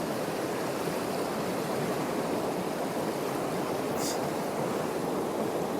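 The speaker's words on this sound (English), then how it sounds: "This little creek's definitely running faster than it was last time I was here." A small creek runs fast and full after heavy rain, its steady broadband rush of flowing water continuous and close throughout, with no voices.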